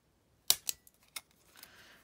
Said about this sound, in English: Take my hole puncher and snip a little piece off of this corner